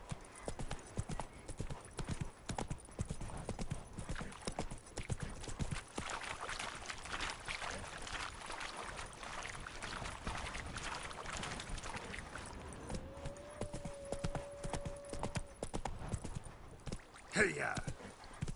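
Roach the horse gallops in The Witcher 3 on PS5, a quick, steady rhythm of hoofbeats running throughout, with a short musical tone and a brief voice near the end.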